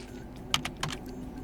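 A few quick keystrokes on a computer keyboard, faint and close, three or four soft clicks over a low background hum.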